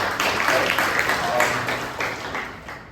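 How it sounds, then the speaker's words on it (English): An audience applauds at a Toastmasters club meeting in Bangalore, a dense, sustained wash of clapping that swells and then slowly fades, with no talk over it. "So please give them a huge round of applause"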